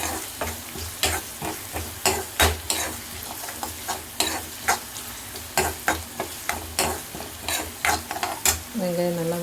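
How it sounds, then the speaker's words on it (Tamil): Onions sauté in oil in a pan for mushroom masala, with a steady sizzle and regular clacking strokes of a spoon stirring. A short tonal sound comes in at the very end. "வெங்காயம் நல்லா வதக்கிடுச்சு."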